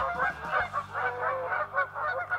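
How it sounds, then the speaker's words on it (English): Geese and swans fight nearby, with a rapid series of loud, harsh honks repeating in quick bursts over a low background rumble. "the geese and the swans are fighting"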